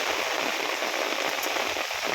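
Heavy rain falls steadily over flooded rice fields, a dense, loud and unbroken hiss of downpour with no voices.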